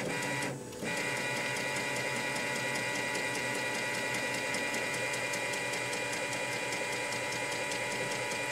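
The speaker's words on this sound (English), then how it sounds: "Once I hit enter, the print head or the capping station will start the suction process." An M2 direct-to-garment printer's capping station runs its ink charge suction: a steady mechanical whir and pumping hum holds close and constant, with a brief dip near the start and no talking.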